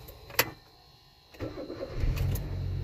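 A car with an automatic transmission in park is started: a sharp click, a short pause, then the starter cranks and the engine catches into a low, steady idle, fairly quiet and close.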